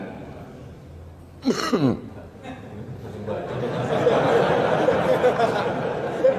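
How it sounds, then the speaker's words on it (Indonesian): A woman's short burst of coughing and throat clearing comes close to the microphone and is followed by low talk and rustling room noise. "Kumat batuk saya."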